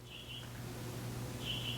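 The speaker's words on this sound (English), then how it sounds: "Even my birds are getting excited." Pet birds give two short, faint high chirps near the start and end over a low indoor hum.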